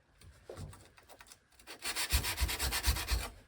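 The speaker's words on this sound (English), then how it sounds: "Next up for flattening is the back of the blade." An old Stanley #8 jointer plane blade has its back flattened, rubbed back and forth on an abrasive: a few soft strokes, then a quicker run of louder rhythmic scrubbing passes close by.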